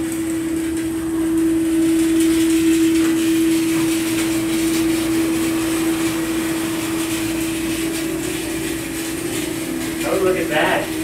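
An Advance Lifts hydraulic dock lift rises inside a building, giving off a loud, steady motor and pump drone with a constant hum that runs the whole time, and a faint clatter near the end.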